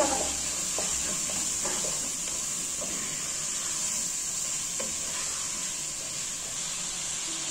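Chopped garlic sizzles steadily in a hot pan while making macaroni with minced meat, a constant crackling hiss with occasional stirring clicks and scrapes, close and fairly loud.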